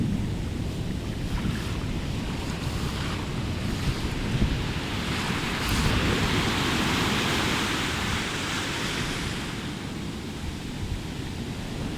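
Pacific Ocean surf crashing against rocks, a continuous loud roar of breaking waves with gusty wind noise and a swelling surge midway, no voices.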